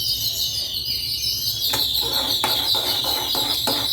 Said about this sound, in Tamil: அப்பா அந்த குருவியெல்லாம் எப்படி கற்றுது பாருங்கள்